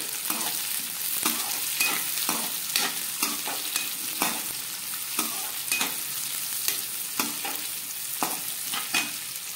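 Spring onions, carrot, onions, green chilli, cumin and mustard seeds fry in a pan for chicken egg fried rice, a steady sizzle broken by repeated scraping stirs in a regular rhythm, close and without talk.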